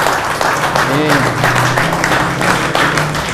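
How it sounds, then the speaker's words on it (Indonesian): Audience applause at a seminar, a dense continuous wash of clapping that holds steady throughout, loud and close. "tepuk tangan untuk beliau ya"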